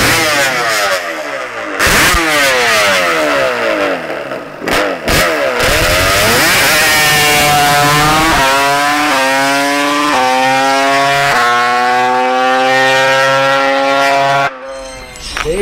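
Two Yamaha Banshee ATVs, 392 and 421 builds making over 100 horsepower, race past with screaming two-stroke engines, loud and near, revving hard with rising pitch through repeated gear changes and brief cuts between shifts.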